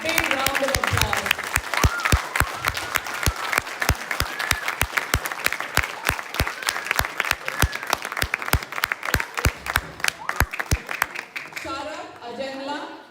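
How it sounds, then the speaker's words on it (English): A crowd applauds at a youth volunteer program's annual day event, loud and continuous clapping that thins into a few scattered, distinct claps before fading out near the end. "Big round of applause."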